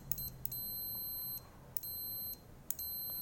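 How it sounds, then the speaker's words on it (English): An Escort EDM-1111A multimeter gives continuity beeps, three steady high-pitched tones of about a second each separated by short gaps, with small clicks as the probes touch, loud and close. "We start with the beep first."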